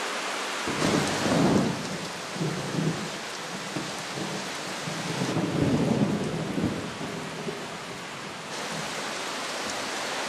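Heavy rain pours steadily in a Sumatran rainforest while deep rolls of thunder rumble and swell several times, loud and close, with no voices.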